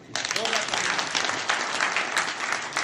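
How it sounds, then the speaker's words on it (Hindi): A seated crowd at a business seminar claps loudly for the leaders, a dense continuous burst of applause that starts abruptly and holds steady, with a brief voice faintly audible near the start. "तमाम लीडर के लिए जोरदार ताली होनी चाहिए।"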